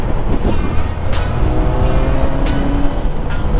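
A 2010 Yamaha FZ6 motorcycle rides along at steady speed, its engine note a continuous droning hum with rising tonal whine and a faint shift in pitch, heard close from on board with no talk.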